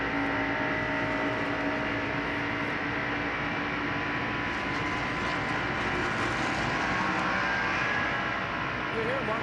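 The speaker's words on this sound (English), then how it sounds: "car sputtering there on the in-car camera and microphone" A 1989 NASCAR stock car racing at Michigan International Speedway with a lost cylinder from over-revving, its engine droning and sputtering steadily through the in-car microphone, a continuous rough mechanical roar throughout.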